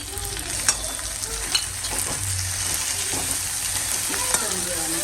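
Tomatoes and turmeric go into a frying pan of hot oil for aloo gobi. A steady sizzle runs throughout, with spoon stirring and a few sharp scrapes against the pan.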